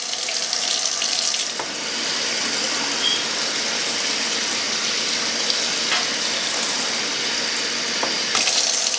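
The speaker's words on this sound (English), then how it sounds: "So I'm going to add water." Water is poured or run into a lace tint mixture, giving a steady, close hiss of flowing water for about nine seconds with a few small clicks.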